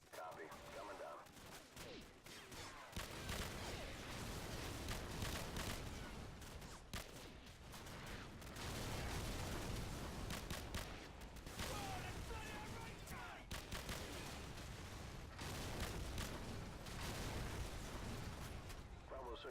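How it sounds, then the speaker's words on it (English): Repeated heavy explosions from AC-130 gunship fire and bursts of gunfire in a Call of Duty 4: Modern Warfare game, booming impacts recurring every few seconds amid a dense, continuous battle din. "Nikolai shows his love for AC-130 explosions."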